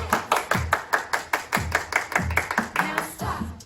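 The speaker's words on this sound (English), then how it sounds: "everybody clap your hands" Group hand claps ring out in a steady, even rhythm, roughly three crisp strokes per second, at a children's church worship song session, with faint music underneath.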